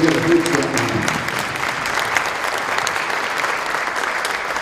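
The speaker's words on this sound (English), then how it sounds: "Give her a big round of applause." A crowd at a Niagara Falls performance gives a loud, sustained round of applause for hoop dancer Eva Big Horse. The clapping is dense and steady throughout, with a faint voice or tone briefly audible near the start.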